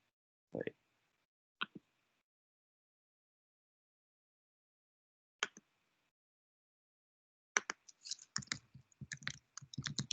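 Typing on a computer keyboard during an online math class: a few isolated key clicks spaced seconds apart, then a quick, faint run of clattering keystrokes.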